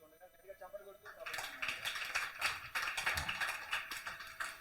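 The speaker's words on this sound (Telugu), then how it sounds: "గట్టిగా చప్పట్లు కొడుతూ" A church congregation claps loudly in ragged, overlapping bursts that build after a quiet opening, with a voice speaking underneath.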